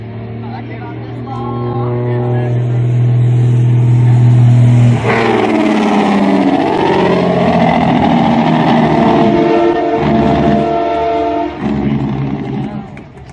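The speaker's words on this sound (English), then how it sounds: "You get to see more dynamic engine braking" Heavy truck engine braking with a jake brake at a competition, a loud sustained mechanical roar that builds, drops and then pulses with a throaty rhythm before easing off. No one speaks.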